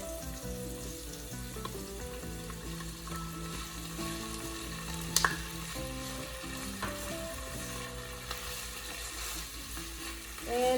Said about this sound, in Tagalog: And we're just going to saute this.